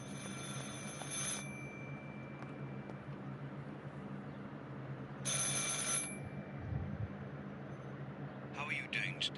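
A telephone rings inside the video game Martha is Dead, sounding in three separate bursts of bright, insistent ringing over a steady low background hum.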